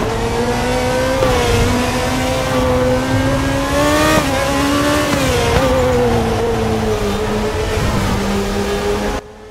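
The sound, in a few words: race car engine revving in the RaceRoom racing game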